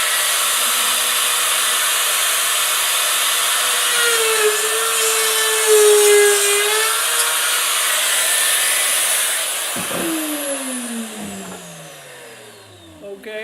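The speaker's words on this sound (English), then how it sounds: "So this is my little keyhole bit, and I'll make these in here for you so you don't have to do it." A router fitted with a keyhole bit runs alone as it cuts a slot into a wooden entryway shelf: a steady, loud high-pitched whine with a pitch shift midway, then it winds down as the motor spins off.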